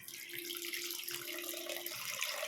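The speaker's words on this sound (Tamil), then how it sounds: "இப்போ நம்ம கரைச்சி வச்சுக்கிற புளி தண்ணி சேர்த்துக்கலாம்" Tamarind water pours steadily into a simmering pot of sundakkai vatha kuzhambu, a South Indian sour gravy, giving a continuous liquid splashing and trickling sound, moderately close with a faint sustained hum underneath.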